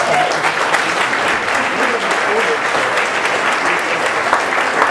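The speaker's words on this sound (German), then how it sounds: "Und nun einen ungleich lauteren Applaus" Steady, dense applause from a bookstore event audience in Hamburg-Altona, sustained and fairly loud throughout without letting up.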